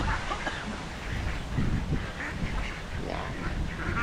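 Ducks quack at feeding time, a raspy flock chorus over steady background noise, fairly soft and continuous with no clear voices.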